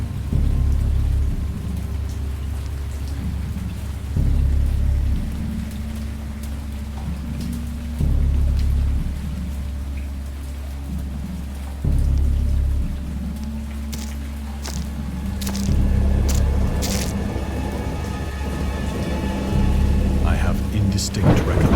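Thunderstorm sound effect with steady heavy rain and repeated low rumbles of thunder rolling every few seconds, loud and close, with a sharper crackle near the end.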